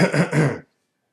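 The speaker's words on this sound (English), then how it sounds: "Enough to make me clear my throat like that." Someone clears their throat up close in two short, rough bursts, then silence.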